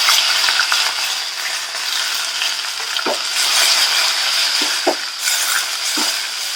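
Chana dal, green chilies, curry leaves and onion frying in hot oil for a sorakai chutney, a loud continuous sizzle with a few soft clinks and scrapes of stirring in the pan; no voices.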